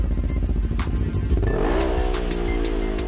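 An MBRP PowerTech 4 stainless steel exhaust on a Can-Am Maverick General side-by-side revs loudly and up close, rapid throttle blips giving way to a sustained rising engine drone.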